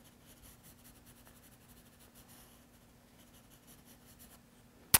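A pencil shades on paper with the side of its lead in an art lesson on textures, a soft, faint continuous scratch under quiet room noise, ending with a sudden sharp tap.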